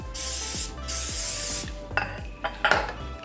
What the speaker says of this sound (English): I'm just spraying it with coconut oil